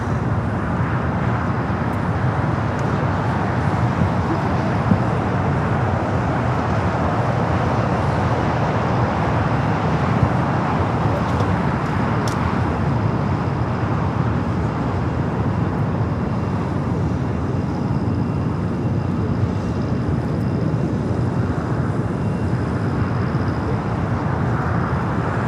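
Boeing 747 nicknamed Queen taking off at LAX, a steady, distant low engine roar that holds evenly throughout with faint traffic noise beneath.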